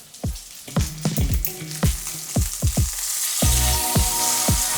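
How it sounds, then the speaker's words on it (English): Food frying in a pan for a quick lunch, with sharp scattered spatters and pops over a rising sizzle that settles into a steadier hiss near the end. "I can already hear that the spitter spattering over there is subsiding."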